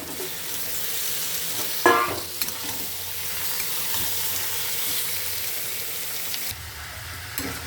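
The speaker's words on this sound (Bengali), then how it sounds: "এবার আমি চিকেনগুলো দিয়ে দেবো।" Chicken pieces fry in a pan for a thin Bengali chicken curry, giving a close, steady sizzle with scraping stirring sounds and a sharp burst of spattering as they hit the hot oil.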